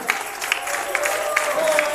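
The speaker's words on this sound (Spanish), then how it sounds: "sienta libertad de aplaudirlo. Apláudela, apláudela" A church congregation applauds in a steady, dense patter of clapping that runs the whole time, with a voice speaking over it.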